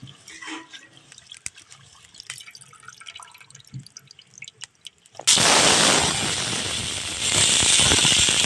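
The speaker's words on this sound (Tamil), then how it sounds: "நல்லா தண்ணி ஊற்றி நல்லா கழுவிக்கலாம்." Water poured and sloshing over thuthuvalai leaves during washing: scattered faint drips and small splashes at first, then a sudden loud, steady rush of running water close by that continues to the end.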